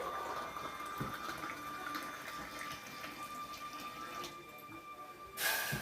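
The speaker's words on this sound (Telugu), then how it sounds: "2 గ్లాసులు వాటర్ పోసుకుంటానండి" A soft, continuous stream of water pours into a cooking pot on a lit gas stove, quiet and close, with a brief louder rush near the end.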